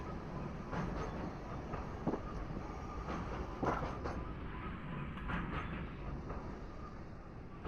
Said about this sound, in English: I am getting a very slow train ride out of it.